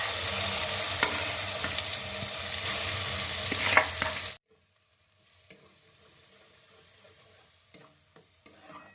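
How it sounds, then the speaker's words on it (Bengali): Pea paste sizzles loudly in a hot pan for about four seconds with a few stirring scrapes, then drops to quiet, faint kitchen clatter. "এবার এর মধ্যে আমি মটরশুঁটির পেস্টটা দিয়ে দিচ্ছি।"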